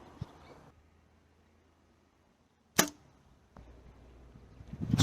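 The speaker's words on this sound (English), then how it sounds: "I'm just gonna go ahead and fire off this fourth arrow." Arrow shot from an archery bow: a sharp, sudden snap of release partway through, preceded by quiet and followed by faint rustling and handling noise.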